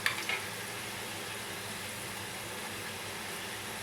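Biscuit dough fries in oil in a wok, making a steady, even sizzle throughout, with a couple of faint clinks at the very start.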